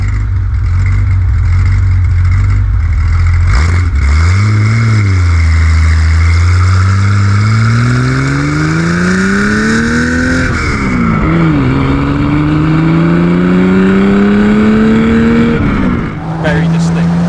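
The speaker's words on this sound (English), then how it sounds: "The air-cooled engine it's an incredible noise." A loud air-cooled engine in a modified 1974 Porsche 911 revs up and down repeatedly, its pitch climbing and dropping in long sweeps, close and powerful.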